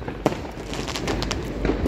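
Firecrackers going off outdoors at a New Year celebration, a sharp nearby crack followed by distant crackling pops and rumble in a noisy night background.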